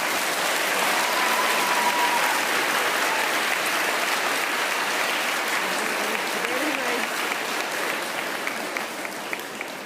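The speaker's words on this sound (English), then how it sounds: "give a huge round of applause for our teachers, families, friends, parents, principals," Dense, sustained applause from a large crowd at a middle school graduation, a continuous wash of clapping that holds steady and thins slightly toward the end, with scattered voices beneath.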